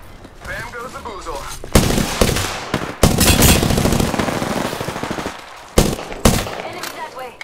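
Bursts of automatic gunfire and sharp shots in a video game firefight, loud and repeated in irregular volleys with short pauses between them, over a steady game soundtrack.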